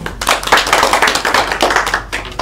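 A classroom of students clapping together, a dense, steady burst of applause that stays loud and close throughout, with no talking over it.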